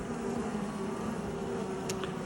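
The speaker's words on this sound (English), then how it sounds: "All the bees are getting in our way." Honey bees hum around an open beehive during an inspection, a faint, steady buzzing drone close by and continuous, with one brief sharper flick near the end.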